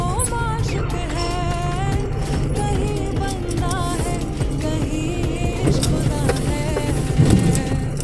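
Dense street traffic in a jam in Silchar: a steady rumble of idling engines mixed with repeated honking horns, some near and some farther off, continuing without letup.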